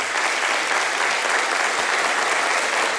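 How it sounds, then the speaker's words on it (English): Steady, dense applause from the public at a council meeting after a unanimous vote to move a bill forward, an even wash of clapping throughout with no pauses. "You shouldn't applaud us for doing what's right."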